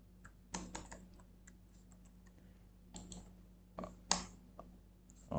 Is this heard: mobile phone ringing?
no